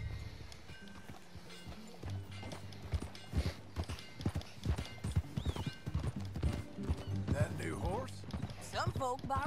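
Horse hooves clip-clopping at a gallop in the video game Red Dead Redemption 2, steady rhythmic hoofbeats close by with a whinny, under ongoing character dialogue and background music.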